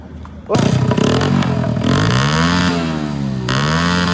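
A 1990s motorcycle engine starts abruptly and runs loud and close, its pitch swelling and falling through a couple of revs over a steady, throbbing idle.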